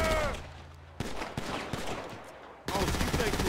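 Gunfire in the video game GTA 5, close and loud, with several sharp shots followed by a dense burst of rapid fire at the end.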